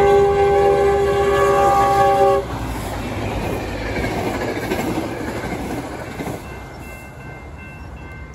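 A Metrolink passenger train hauled by an F125 locomotive passes a railroad crossing, opening with a loud sustained horn blast, then a steady close rumble and wheel clatter that fades slightly toward the end.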